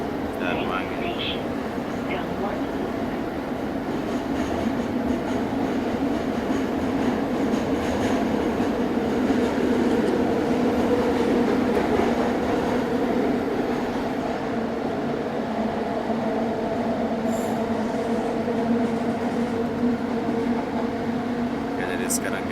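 A Kuala Lumpur LRT train runs into Dang Wangi station with a steady rumbling drone and faint clatter, and a few brief squeaks and clicks stand out near the start and end.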